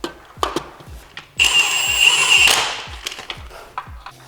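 A second-hand starter is bolted onto an Infiniti G37 engine during a rebuild, with a whirring power tool running for about a second near the middle, surrounded by repeated close metallic clicks and taps.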